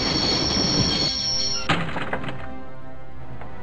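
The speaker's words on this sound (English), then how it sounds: "I'd always wanted to stop the train. And now was my chance." A train rolls along rails in the Broken Sword video game: a steady, close rumble of wheels, then a single heavy clunk and fading, thinner running noise with no talk.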